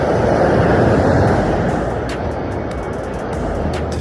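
Sea sound effect from a sound library: a loud, steady broadband wash of surf and rolling water, dense and continuous throughout with slight swells in level and no voices.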